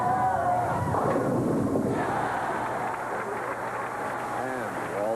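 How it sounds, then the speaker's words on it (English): Large crowd murmuring and reacting at a 1988 bowling tournament at Taylor Lanes, a steady dense babble of voices throughout, with a commentator talking over it. "This big crowd. It's a very knowledgeable crowd here at the Taylor Lanes."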